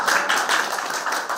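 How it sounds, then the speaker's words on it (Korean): Audience clapping at a party officials' election Q&A session, a brief burst of steady, fairly close hand claps from a modest crowd. "박수 한번 쳐주시죠."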